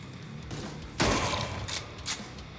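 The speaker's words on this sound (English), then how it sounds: "I'm gonna have to switch to my shotgun just because I'm gonna run out of ammo otherwise." Shotgun blasts in the roguelike shooter Jupiter Hell, a loud burst at about one second followed by a couple of lighter shots, over a dense layer of game noise.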